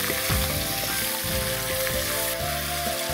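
Oil poured into a pan of spices for a Bengali curry bursts into a loud, close sizzle, with stirring scrapes over a steady frying hiss and low tonal hums beneath.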